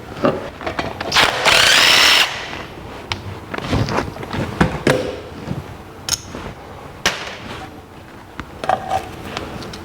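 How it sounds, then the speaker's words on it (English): Cover plate bolts coming out of a Dana 300 transfer case from a 1982 Jeep CJ7, a short burst of power-tool whir followed by scattered metallic clanks and taps of parts being handled, up close. "remove cover plate bolts and remove plate and end plate shims from the case"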